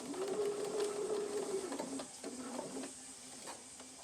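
A sewing machine stitches a plastic pocket in close, even whirring bursts, with a brief pause and a few lighter clicks and taps as the work is held in place.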